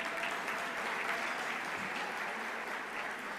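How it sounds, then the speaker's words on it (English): A large conference audience applauds at a plenary session, a dense, continuous wash of many hands clapping at an even level throughout, heard from within the hall. "Let's give Ms. Laura Parra and Edison International another round of applause"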